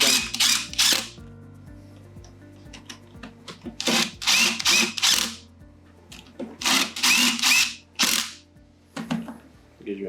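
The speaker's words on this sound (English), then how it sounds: "Start with the longer screw, run it right through into the base." A power driver runs screws into the base of a pump while a check valve is fitted, giving several bursts of whirring, each a second or so long, with short clicks and pauses between them, close and fairly loud.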